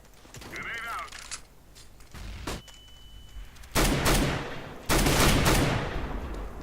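Counter-Strike gunfire rings out in sharp bursts, a few isolated shots early, then two loud volleys of rapid rifle fire with ringing tails, mixed with weapon handling clicks and a player talking.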